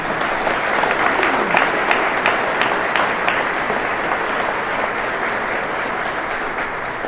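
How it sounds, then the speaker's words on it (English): Steady applause from an audience at a state bill-signing ceremony on combating antisemitism, dense and sustained throughout, with no speech over it. "If you'd give them a round of applause."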